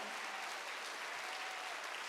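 A church congregation at a Wednesday worship service claps together, a brief, even burst of applause heard at moderate distance.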